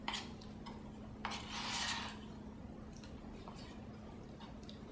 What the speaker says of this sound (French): Je mélange bien le joint, la pâte que j'ai obtenue